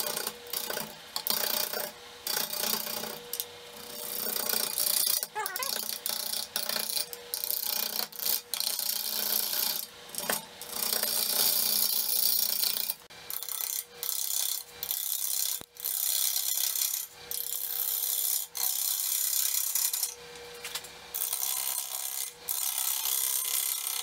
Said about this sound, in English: So as you can hear, my lathe isn't agreeing with this